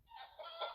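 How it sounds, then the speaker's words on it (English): A chicken clucks from an animal sound app, one short quiet cluck, faint and alone. "Chicken."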